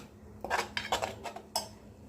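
Masala paste roasting in oil in a pan for a Kokani-style usal, a few close scraping and clinking strokes of a utensil against the pan over a soft background hiss, no talking.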